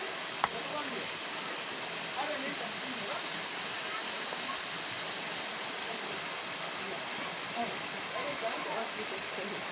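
A water pump in Natuna running with a steady, unbroken rushing hiss that holds at the same level throughout, close and loud, while voices talk faintly in the background.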